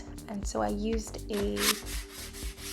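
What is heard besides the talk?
sanding painted wood cabinet with a sanding block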